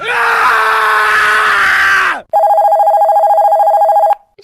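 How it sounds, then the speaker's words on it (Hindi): A telephone rings in a steady, loud pulsing tone for about two seconds, following a stretch of loud screaming and wailing voices that cut off abruptly. "परेशान शिवानी राजीव को फोन करती है"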